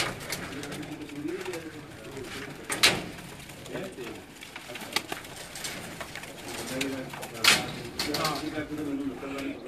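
Pigeons of a prized show breed cooing in a loft, soft repeated throaty coos under steady nearby talk, with a couple of sharper bursts around.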